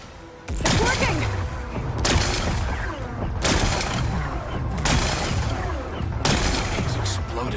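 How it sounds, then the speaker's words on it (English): Rocks blast apart in the Horizon Forbidden West video game as several heavy explosive bursts arrive one after another, each followed by rumbling debris and crackle, loud and continuous. "Gotta blast away some rocks, so I can expose the power cell."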